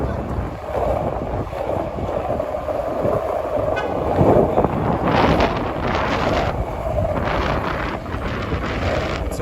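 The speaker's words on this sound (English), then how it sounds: "It's a windy night outside in New York City." Wind blowing outdoors on a night street in Midtown Manhattan, New York City, a steady broad rushing roar with gusts buffeting the microphone, and distant city rumble underneath throughout.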